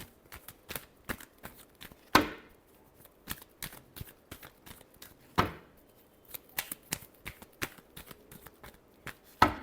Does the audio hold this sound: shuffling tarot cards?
yes